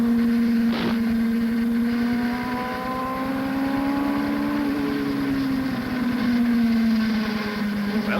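A 1990 Toyota Formula Atlantic race car engine drones steadily at Road America. The sustained, loud engine tone rises and falls slightly in pitch through the whole stretch, with no speech.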